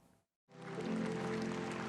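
Supporters at a book concert in Daegu applaud former president Park Geun-hye as she takes the stage. After a brief silence the clapping swells in and holds as a full, steady crowd applause.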